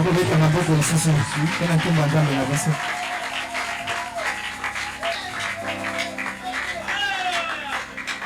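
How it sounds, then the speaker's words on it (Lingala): A church congregation applauds and cheers loudly, with dense clapping and voices over steady background music throughout. "Est-ce que nous pouvons acclamer encore très fort?"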